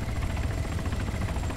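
Helicopter in the military video game ArmA 3, a steady low rotor-and-engine drone that holds constant throughout, fairly loud and with no talking over it.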